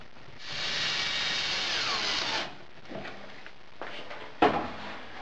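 A power drill fastens a router table down to new braces, with a sustained whirring run for about two seconds followed by shorter bursts, knocks and clatter, and no voices.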